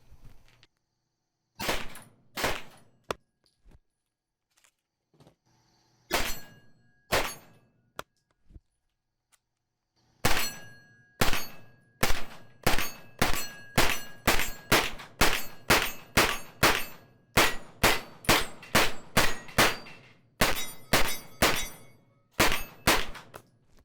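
Mac 5 firearm firing range ammunition at a shooting range, sharp loud cracks with ringing clang, a few spaced shots at first then a long string of rapid, evenly paced rounds, close and without talk.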